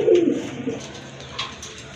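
A pigeon coos close by, a low throaty warble at the start, with softer rustling and faint background noise after.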